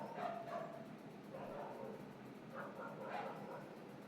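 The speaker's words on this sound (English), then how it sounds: "Please stop barking." A dog barks and yips in a few short bursts, somewhat distant and muffled, with a faint whimpering quality between barks.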